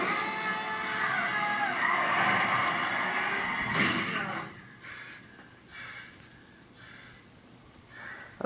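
A film truck chase: a truck's tire blows out and skids, a loud sustained roar of engine, tire and scraping noise for several seconds before it cuts away. Quieter rumbles and scuffs follow, with talk over them.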